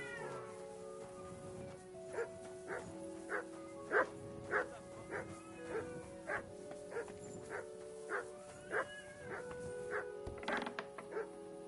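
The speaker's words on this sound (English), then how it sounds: "Sit and bark." A dog barks repeatedly in Kingdom Come: Deliverance 2, a steady run of short yips and barks at a moderate distance over a low background with sustained tonal hum.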